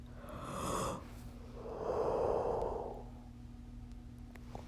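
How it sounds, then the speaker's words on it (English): A person yawns twice in quick succession, close and breathy, the second yawn longer and fuller, over a faint background hum. "Man, I keep yawning."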